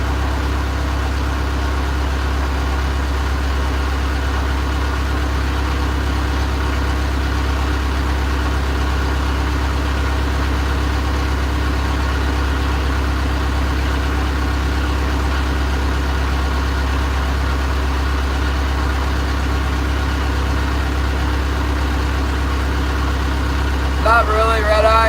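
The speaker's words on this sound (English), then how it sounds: "There's an engine right underneath me" A commercial fishing boat's engine runs directly below deck, a steady loud low-frequency drone with constant vibration throughout, with faint rain or spray hints near the end.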